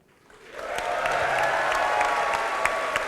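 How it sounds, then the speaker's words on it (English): An audience at the St. Louis MLS press conference breaks into applause that swells within half a second and holds as a dense, steady clapping for the rest of the stretch. "I didn't even have applause written in those comments there."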